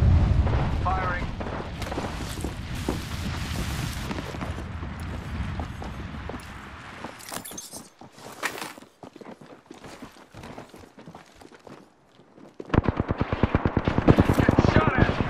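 Gunfire in the battle royale game Apex Legends, bursts of rapid shots with booming impacts, fading into scattered pops before heavy firing resumes loudly near the end, with talk over parts of it.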